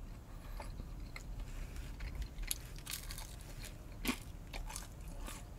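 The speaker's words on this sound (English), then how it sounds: "Nice, crusty, crunchy crust." Crisp crunching bites into pizza crust from a vending machine pizza, close and fairly quiet, with sharp crackles scattered over a few seconds and one louder crunch near the end.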